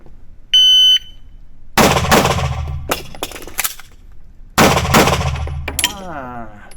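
Daniel H9 pistol fired during a practical shooting drill: a shot timer beep, then two quick bursts of sharp, loud shots in close pairs with echo, separated by a pause for an emergency reload.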